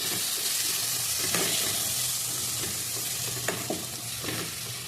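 Tomatoes sautéing in a pan for a Tamil-style fish curry give a continuous close sizzle, with spoon stirring and scraping adding occasional clicks throughout.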